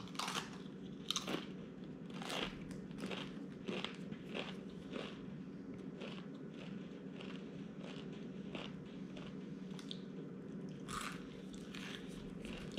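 Someone chews and crunches a burnt, charcoal-coated spicy Paqui tortilla chip during a one-chip challenge, with a string of close, crisp bites sounding over a quiet room.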